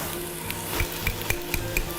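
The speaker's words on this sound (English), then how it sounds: "You can hear it sizzling." Southwestern veggie chili sizzling in a pot on the stove, a steady close frying hiss broken by a few sharp scrapes and clinks as it is stirred.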